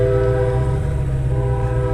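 A train passing close by, its heavy low rumble steady and loud with a sustained horn-like tonal drone layered on top throughout, no voices.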